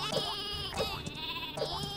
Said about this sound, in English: All I hear is boinging from the tower and a lot of sheep noises.